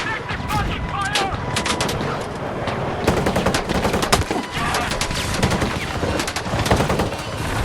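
Dense automatic and single gunfire from the video game Battlefield 6, rattling bursts and sharp cracks filling the whole stretch at close range, loud and nearly continuous, with faint shouted radio chatter underneath.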